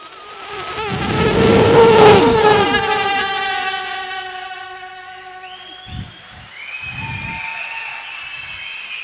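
A loud high-pitched engine whine rises and falls as a fast vehicle races past close by, then fades, leaving quieter traffic noise.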